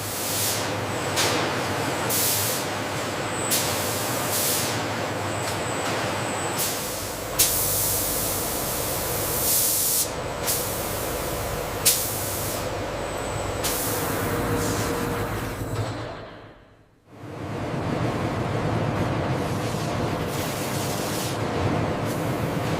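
Continuous loud hiss of forced air on a snake leather factory's drying line, with bursts of spray-like rushing and a brief dip to near silence near the end before the steady airflow resumes.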